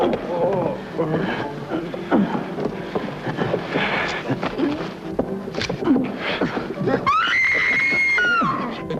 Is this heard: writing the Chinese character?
no